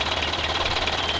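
A tractor engine idles as it comes to a stop, giving a close, steady rumbling chug with a rapid even pulse and no talk.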